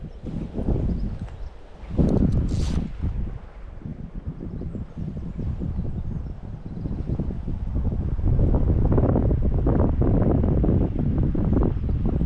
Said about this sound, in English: It's quite a cool breeze blowing.